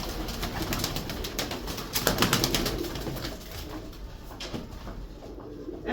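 Pigeons kept in a home loft coo softly and repeatedly, with soft wing flutters and shuffling nearby, and no talk.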